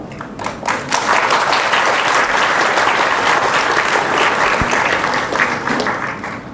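Dense, sustained clapping from a large audience at a G20 summit event at VIPS, loud and steady for the whole stretch with no pause.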